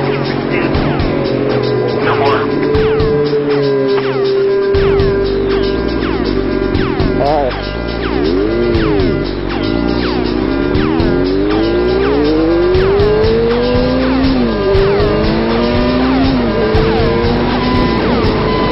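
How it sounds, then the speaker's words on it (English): A group of Ferrari sports cars drive past on Mulholland Highway, engines revving and wailing loudly as several cars rush by one after another, with rising and falling pitch throughout. "these guys aren't slow. This is the Ferrari group."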